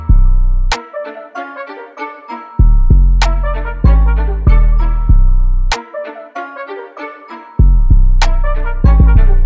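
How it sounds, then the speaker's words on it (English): Booming 808 bass pattern in an FL Studio trap beat, with sliding pitch notes woven into repeated deep hits and bright percussive accents, loud and alone with no talking. "So I added these little slide notes in here just for some differentiation."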